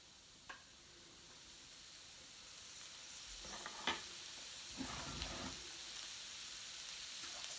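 Kale with garlic in oil sizzles in a pan as it's sautéed, a soft continuous hiss with occasional scraping stirs and light clinks, quiet and close.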